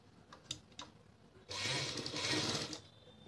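A sewing machine stitches along a folded salwar waistband: a few light clicks, then a steady close whirring run of about a second and a half.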